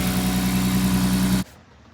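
A BMW E36 engine running without belts or a power steering pump idles with a steady, even hum up close, then cuts off abruptly near the end.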